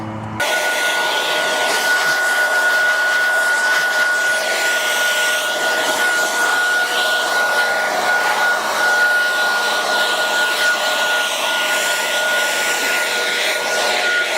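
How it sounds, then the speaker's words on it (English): An air blower clears debris off a roof before flashing work, a loud, steady, unbroken roar of rushing air with a faint whine running through it, starting abruptly and holding constant throughout. "I'm going to go ahead and blow off the roof and blow out this joint"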